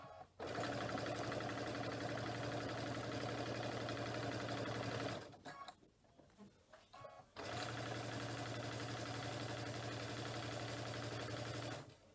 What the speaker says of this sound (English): So I will go all the way around this one. Okay, last bit of the stitching.